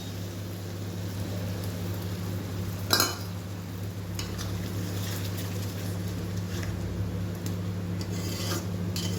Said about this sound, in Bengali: এবারে আমি মশলা গোলাটা দিয়ে দিলাম।